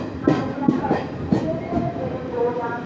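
A train rolls along the rails at a busy Kerala railway station, with loud rhythmic clacks from the wheels over the rail joints and a faint squeal behind them.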